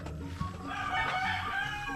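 Rhode Island chickens on a farm, a rooster crowing loud and close over a background of clucking hens.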